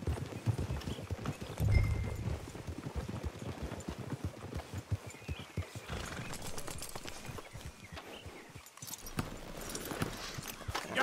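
Horses walking in the video game Red Dead Redemption 2, with soft, irregular hoof clip-clops and an occasional whinny set against a busy ambient game background with faint voices.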